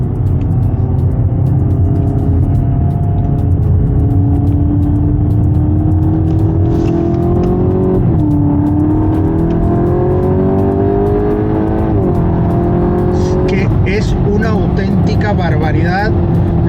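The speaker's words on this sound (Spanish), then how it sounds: "Barbaridad lo que acelera y cómo suena ese escape" A 2026 Volkswagen Golf GTI Clubsport with 300 hp revs up through the gears, its exhaust droning and rising in pitch over several seconds, loud and close, with a brief shift pause.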